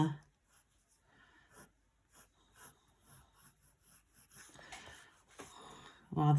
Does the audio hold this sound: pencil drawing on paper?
yes